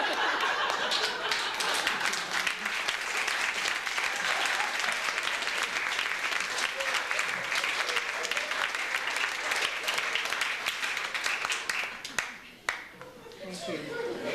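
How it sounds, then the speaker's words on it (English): Audience at a poetry reading clapping loudly after a poem, a sustained dense burst of applause with scattered laughter that fades near the end before a voice begins. "As the poet finishes, we all clap loudly."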